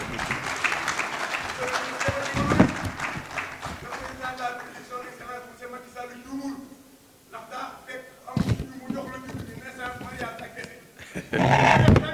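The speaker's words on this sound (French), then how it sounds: "Sous vos applaudissements." Applause for a minister at a francophone African symposium, a crowd clapping in bursts mixed with talk and movement, fading midway before swelling again near the end.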